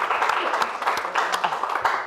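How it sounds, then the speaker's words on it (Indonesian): A live comedy roast audience applauds in a steady, dense patter of many hands clapping, fairly loud and continuous for about two seconds with no talk over it. "Tepuk tangan buat beliau."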